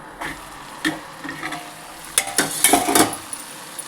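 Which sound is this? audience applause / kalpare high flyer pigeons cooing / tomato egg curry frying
tomato egg curry frying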